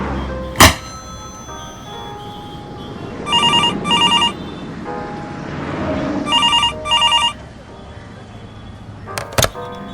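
An old-style telephone bell rings in two double bursts a few seconds apart, loud and close, with sharp knocks before and after and faint room noise between.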